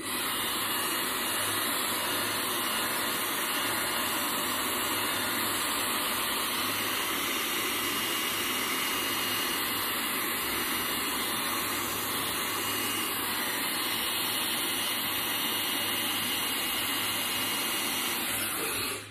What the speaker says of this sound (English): You can just dry the section of hair, you don't need to keep moving it